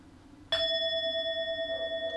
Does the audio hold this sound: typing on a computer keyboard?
no